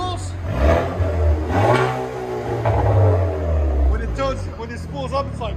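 A Chevy Camaro 2.0L turbo fitted with Dynomax race bullet exhaust revs through a deep, smooth rise and fall, loud and close, with people talking over and after the engine.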